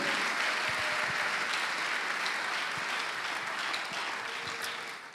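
A church congregation applauds in praise, a dense, sustained wash of clapping from many hands that fills the room and stays loud before easing slightly at the end.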